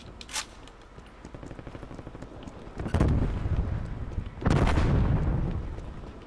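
A tank firing in the video game Call of Duty Cold War, two heavy booming blasts with rumbling explosion tails, loud and close, amid steady background battle noise.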